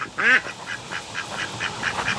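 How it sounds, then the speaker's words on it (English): A loud, nasal Indian runner duck quack near the start, followed by a run of softer, rhythmic quacks and calls. "got an Indian runner duck"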